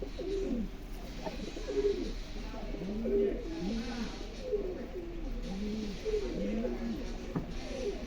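Native-breed racing pigeons coo in repeated low, rolling calls, several birds overlapping at close range against a quiet outdoor background.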